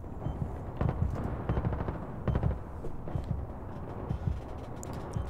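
Gunfire fills a Battlefield 3 battle with rapid machine-gun bursts and scattered shots, moderately loud with some distance, rattling steadily with no talk over it.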